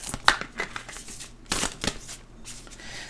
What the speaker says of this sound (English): They don't want to be shuffled.